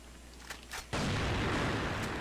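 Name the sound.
gunshots in the video game Crossfire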